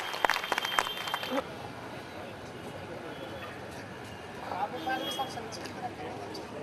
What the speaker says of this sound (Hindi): आप जरा जोरदार तालियां बजाकर